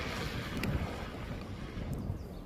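A Rampage RC boat fitted with 57×113 torque motors and a Hobbywing 300A ESC runs across water at speed, a steady motor roar mixed with wind and spray noise, fairly distant and continuous with no talk.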